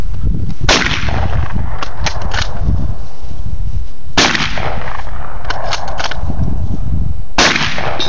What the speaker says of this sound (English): He's going to shoot 3, and then he's going to try to reload as fast as he can and shoot 3 more